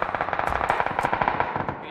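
Rapid automatic gunfire in PUBG, a fast regular burst of shots about ten per second, close and loud, with faint voices underneath.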